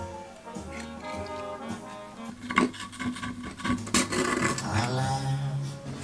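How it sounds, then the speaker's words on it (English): Hand rubbing along the corners of an old forge fan under restoration, uneven scraping and rasping strokes, close and moderately loud, with irregular bursts and pauses. "I still have to rub all the corners"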